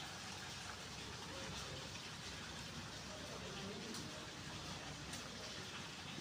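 Heavy rain pours down in Lahore during flooding, a dense, steady hiss that fills the whole stretch without a break, with faint voices under the roar.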